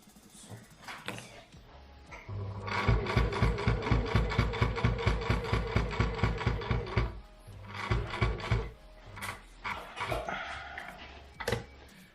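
A sewing machine stitches elastic onto a double-layer fabric face mask, running in a fast steady burst of close mechanical clatter, then in shorter stop-start runs.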